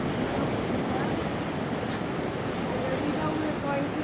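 Atlantic Ocean surf on a beach in Elmina, Ghana, rolls as a loud, continuous wash of broadband noise with wind buffeting the microphone.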